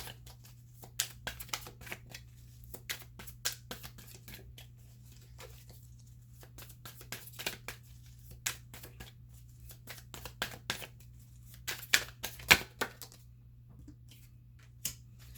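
Tarot cards shuffled and drawn during a Scorpio reading, heard as soft, close, irregular papery flicks and taps over a steady low hum, with a denser flurry of snaps near the end.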